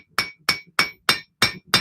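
A hammer strikes steel while hand forging a knife bevel, six sharp ringing blows at a steady rhythm of roughly three per second, close and loud with short decays and quiet gaps between, no voices.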